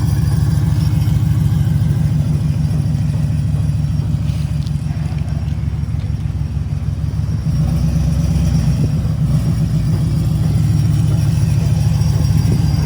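A damaged, totaled Ford F-150 pickup runs under its own power, its engine giving a steady low rumbling idle throughout, close and continuous with no speech.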